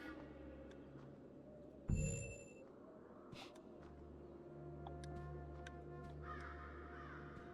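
Crows cawing in the video game Brave, a few harsh calls at a moderate distance over a steady low ambient hum, with a sudden thump partway through.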